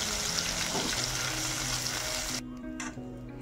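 Ground peanut paste sizzles and fries in a hot pan while being stirred, a short close crackle with scraping that fades to quieter hissing.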